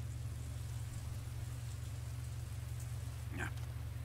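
Steady rain falls throughout a Metal Gear Solid 3 game scene, a continuous even hiss over a low hum, with a brief brighter patter near the end.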